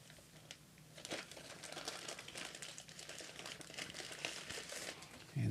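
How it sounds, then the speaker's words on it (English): Crinkling and crumpling of a thin plastic bag being worked open around an Anona 4K security camera during unboxing, a steady run of close, dry rustles and crackles with a louder burst near the end and no talk. "Comes here in this plastic bag. Let me see how I can open it."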